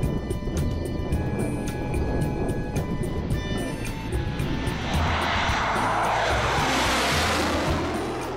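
A MiG-29 jet passing during an aerial display, a loud roaring engine wash with a steady whine that swells into a broad rushing blast toward the end.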